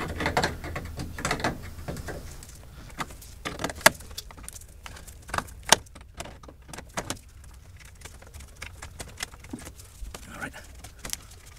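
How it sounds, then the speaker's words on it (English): Needle nose pliers work loose a fastener inside a second-generation Camaro's dash, giving close metallic clicks, scrapes and rattles in irregular bursts with quiet gaps. "If I can loosen it with this needle nose, which looks like I can for the most part."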